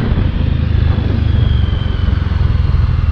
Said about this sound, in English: Currently I am riding at second gear